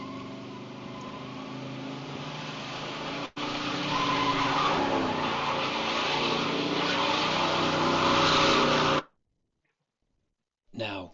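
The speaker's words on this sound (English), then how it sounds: "car noises." Car engine and tire noise from the Silent Hill video game, a loud continuous rumble with skidding for about nine seconds, then a sudden cut to near silence before a brief burst returns.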